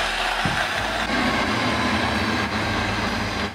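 A portable juicer cup blender runs upside down, its small motor giving a loud, steady whirring drone with a rough grinding texture that holds for the whole few seconds, with no voices.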